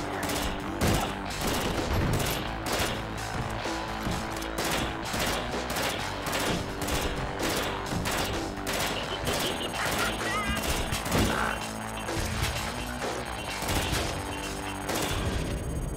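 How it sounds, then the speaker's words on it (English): Rapid, dense volleys of rocket and gunfire blasts from the video game Rocketbirds 2, a continuous loud barrage of explosive bursts with music running underneath. "Stupid rockets. Three of them that time."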